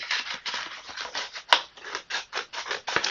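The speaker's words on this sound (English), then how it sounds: "I am using scissors" Scissors snip through Cricut sticker vinyl in a quick series of close, crisp cuts, each a short rasping slice, with one sharper click partway through.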